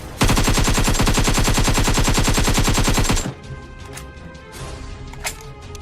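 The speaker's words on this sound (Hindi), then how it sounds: "अरे ये गोलियों की आवाज कैसी?" Rapid, loud automatic gunfire in a sustained burst of shots during an attack on an army camp, then cutting off to a quieter scene with scattered distant cracks and debris.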